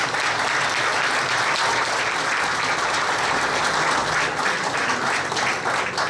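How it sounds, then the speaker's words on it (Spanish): Loud, sustained audience applause at a formal ceremony with an honor table, a thick continuous roar of many hands clapping for several seconds with little else audible. "Me refiero al profesor Gilde Requijo, a quien pido un fuerte aplauso, por favor."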